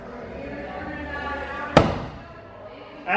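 A thrown axe strikes a wooden throwing target with one sharp, loud thud, followed by a fainter knock, under steady background noise.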